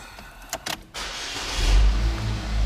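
A Chevrolet Equinox with a light gray and black cloth interior starts up: a few short clicks and a starter crank give way to the engine catching and settling into a steady low idle, close by and with no talk.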